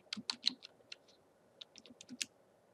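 Fingers tap out a password on a computer keyboard for a medic's narcotic administration record: quiet, irregular clusters of light key clicks with short pauses between bursts.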